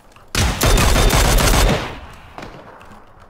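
Rapid automatic gunfire in a video game, a loud sustained burst of shots lasting over a second and then dying away into quieter ambience with a few faint distant pops.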